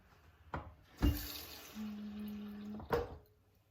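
Tap water runs into a one-third cup kitchen measuring cup while making blueberry pancakes, a short steady fill of about a second after a couple of clunks of handling, near and fairly quiet.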